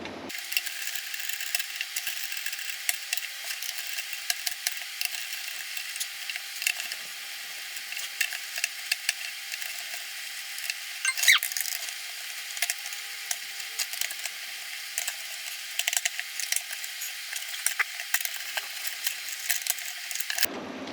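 Screws being removed one after another from a Waveform Quad 4x4 MIMO panel antenna, heard as a close, continuous run of small ratcheting clicks and scraping metal ticks.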